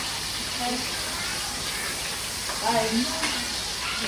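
Bacon frying in a pan, a steady broadband sizzle and hiss that holds throughout, close and fairly loud, with faint voices under it.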